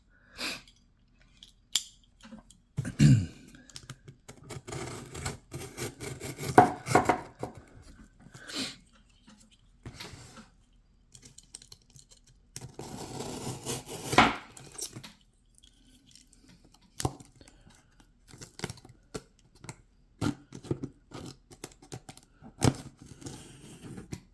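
A delivery package of baseball cards is opened up close, with bursts of cutting, tearing and crinkling in irregular rustling spells, separated by quiet pauses and no talk.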